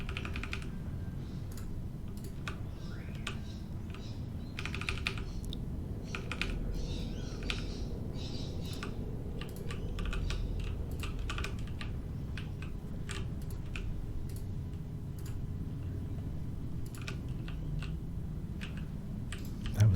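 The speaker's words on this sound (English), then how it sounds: "I'm spamming, as you can probably hear on the keyboard," Steady clicking of a computer keyboard being typed on rapidly during a World of Warcraft session as a Holy Priest, with dense repeated keystrokes running continuously at close range and a soft low hum underneath.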